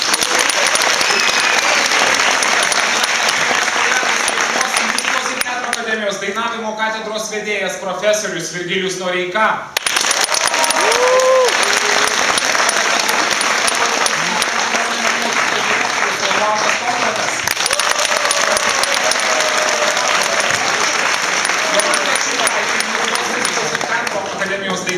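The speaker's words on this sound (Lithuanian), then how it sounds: "audringi plojimai mūsų komisijai" Loud, sustained applause from a concert audience for the jury of a children's singing competition, dense clapping throughout while an announcer speaks over it introducing jury members.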